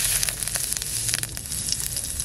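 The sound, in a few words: cumin seeds sizzling in a little hot oil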